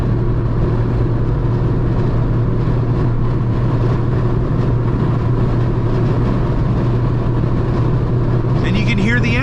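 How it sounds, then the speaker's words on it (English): A 1991 Toyota Corolla DX with a four-cylinder engine drones steadily from inside the cabin while driving, a constant low hum and road rumble, loud and unbroken throughout. "And you can hear the engine, but it's not,"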